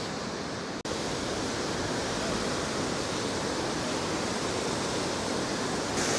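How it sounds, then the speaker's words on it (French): A dense, constant roar of rushing water from a waterfall, loud and close, with rain mixed into the steady wash of noise. "Il pleut, mais les cascades, ça reste toujours très joli, même sous la pluie."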